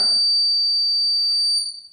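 A security alarm buzzer on a laser and LDR sensor system sounds as a loud, steady high-pitched electronic tone that holds for about one and a half seconds before fading, with no talking.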